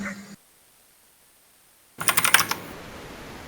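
A quick burst of clicky keystrokes on a computer keyboard with blue switches comes after a short silence. It is close and crisp, a brief typing flurry.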